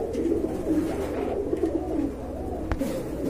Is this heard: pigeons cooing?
yes